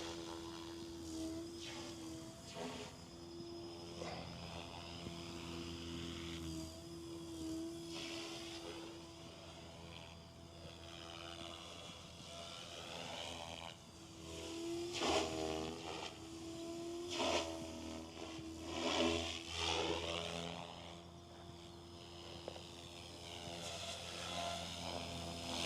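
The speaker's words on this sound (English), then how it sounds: "I better land it because I don't want to crash somebody else's helicopter." Continuous buzzing whine of a SAB Goblin Raw 420 radio-controlled model helicopter hovering nearby, its pitch rising and falling as the rotor speed changes.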